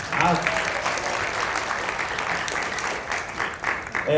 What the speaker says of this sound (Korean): 박수 한번 먼저 부탁드립니다